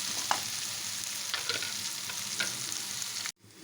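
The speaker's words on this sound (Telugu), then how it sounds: "పచ్చి వాసన పోయే వరకు పసుపు అల్లం వెల్లుల్లి పేస్ట్ పచ్చి వాసన పోయే వరకు వేయించుకోవాలి" Turmeric and ginger-garlic paste fry in oil with a soft, steady sizzle and a few light stirring scrapes, then a short break near the end; no voices.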